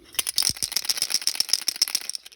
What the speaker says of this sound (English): give them a good shake